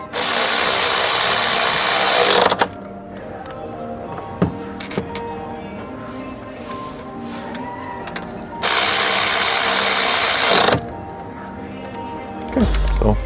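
A KIMO 12V cordless electric ratchet wrench, a 3/8-inch 400 RPM tool, runs in two loud, steady whirring bursts of about two seconds each, separated by quiet handling clicks and ending with a third short spin.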